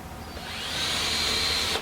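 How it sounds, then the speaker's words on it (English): Power drill boring a pilot hole into a wooden pirogue hull during a boat-building class, a steady whirring whine that rises in pitch as it spins up, close and loud, ending with a brief bump. "So you want to start with the pilot bit, pilot hole, right?"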